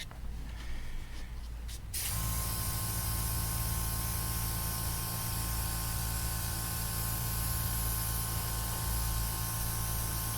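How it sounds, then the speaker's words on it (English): An airbrush sprays paint onto an HG Gouf model kit, a brief softer burst followed by a loud, steady close hiss that continues without a break. "Starting to get a little bit more proficient with the airbrush."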